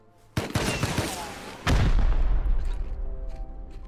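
An automated turret firing in Rust on a PvE server: a sudden burst of rapid shots, then a louder, heavier roar of fire that booms and rumbles before slowly fading.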